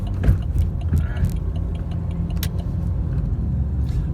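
A car drives in road traffic heading to a concert, with a loud steady engine and road rumble from inside the vehicle, plus a few light clicks and rattles over the drone.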